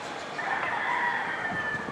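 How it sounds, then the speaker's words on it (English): A rooster crows in the distance over a city in the Philippines, one drawn-out call over faint ambient background noise. "Dogs barking, roosters going off."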